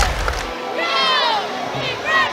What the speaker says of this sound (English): the crowd trying to get into it to hype up their team